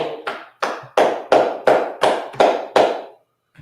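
Eight sharp hand claps in a steady, even rhythm, fairly loud and close, then the sound stops.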